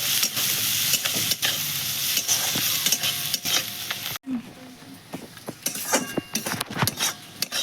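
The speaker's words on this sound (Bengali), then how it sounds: "এবার আমি একটু ভেজে নেবো এগুলো" Onions and peanuts fry in a pan with turmeric, giving a loud, close sizzle under repeated scraping and stirring strokes, which ease to lighter crackles after a sudden drop midway.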